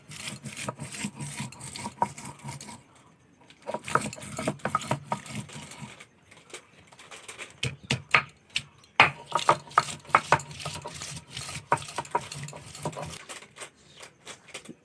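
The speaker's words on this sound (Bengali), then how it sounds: "পেঁয়াজটা আমি সিধে বেটে নিচ্ছি" Onion is ground into paste on a grinding stone, a soft rhythmic rubbing and scraping of repeated strokes, fairly quiet and close.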